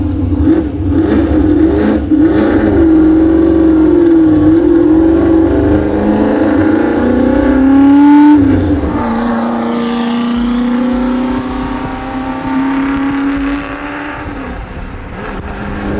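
A loud Shelby GT350 engine revs hard and screams up through the gears on canyon roads, pitch climbing, dropping at a shift, then climbing again, close and continuous.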